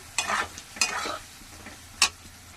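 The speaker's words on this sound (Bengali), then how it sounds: "নুন দিয়ে এবার আমি এটাকে ভালো করে কষাবো" Spice paste with turmeric and salt is stir-fried in a pan for a soybean dish. It gives three quick scraping sizzles from a spatula over a faint frying hiss, close up with no talk.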